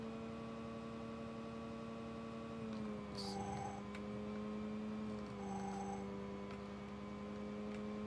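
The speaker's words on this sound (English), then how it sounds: "I like to be able to hear the actual engine noise and the squeak of the wheels" A car engine in an Amiga racing game drones as a steady, synthetic tone that dips slightly in pitch now and then, with faint chirps over it and a constant low hum.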